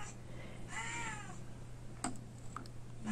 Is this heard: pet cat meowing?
yes